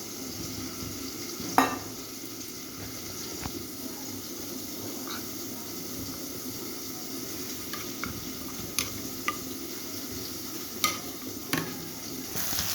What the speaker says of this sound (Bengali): এদিকে আমার আলুটা টমেটোটা একদম ভাজা ভাজা হয়ে গেছে